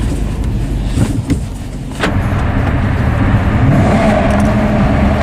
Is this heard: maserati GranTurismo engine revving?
yes